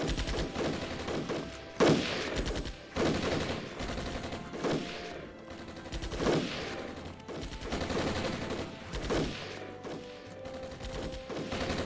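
Gunfire in Armored Brigade, a military strategy video game, crackles as dense, continuous volleys with overlapping sharp bursts and thuds throughout, loud and sustained with no talking.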